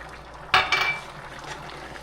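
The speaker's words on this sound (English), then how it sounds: "Stir it up a little bit." A spoon scrapes and clinks once against a pot of rice and peas sweetened with brown sugar, a short bright knock followed by a soft wet stir, then quiet.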